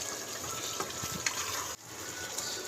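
Butter hissing and sizzling in 3 to 4 tablespoons of hot oil with chicken pieces for a white chicken karahi, a steady close crackle with small pops and a brief dip in the middle.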